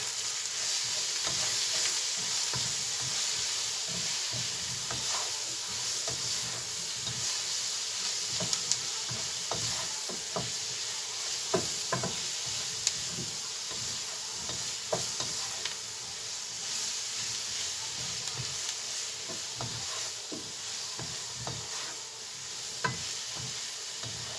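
Onion and green pepper sizzle steadily in a frying pan for potatoes with eggs, with a constant hiss and scattered clicks of a spoon stirring through them, close and alone.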